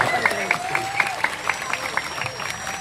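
Audience applause ripples through a large Islamic religious gathering in Kendal: uneven bursts of clapping recur every fraction of a second, close and moderately loud, with a voice sounding over them.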